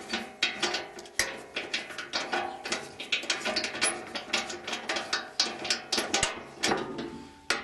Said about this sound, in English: Opening up the door now. This is a bit of a pain.